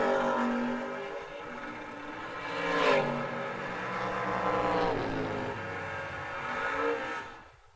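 A 2nd gen Camaro drag racing at a memorial race, its engine roaring loud and steady down the strip with a surge of revving midway and a second rise near the end before cutting off.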